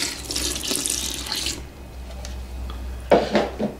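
Water strained from elephant foot yam is poured from a height into French bread dough in a mixing bowl, a steady splashing stream for about a second and a half, then quiet with a few soft knocks and a splash near the end.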